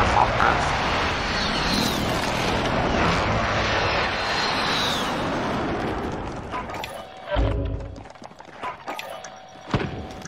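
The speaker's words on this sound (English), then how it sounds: "Friendly UAV overhead." A friendly UAV drone passes overhead in the Warzone battle royale, a steady droning engine roar that fills most of the clip before fading into scattered thumps and game noises, with someone talking over it.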